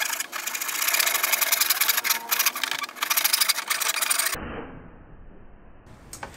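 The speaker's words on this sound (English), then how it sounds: "I'm gonna use this handsaw because that's what I like to do" A handsaw cuts through a plastic milk crate in quick, rasping back-and-forth strokes that are close and fairly loud, then stop abruptly, leaving quiet handling noise.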